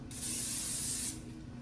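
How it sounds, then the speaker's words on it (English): A short burst of cooking oil sprayed onto food in an air fryer basket: one steady, close hiss lasting about a second, starting and stopping abruptly over a low background hum. "I'm gonna spray just a little bit on the top."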